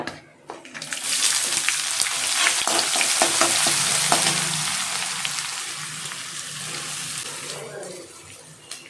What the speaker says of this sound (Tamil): வெங்காயம் நல்லா வர வதங்கணும் பொன்னிறமாக வதங்கணும்